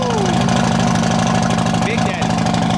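A cammed Harley-Davidson motorcycle engine idles loud and close with a steady, lumpy, throbbing beat, while a voice talks over it.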